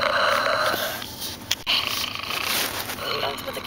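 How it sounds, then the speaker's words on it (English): A pet animal snores close up on New Year's Eve, a rough, raspy breathing rumble held almost continuously over a noisy indoor background with faint voices around. "It snores and then roars."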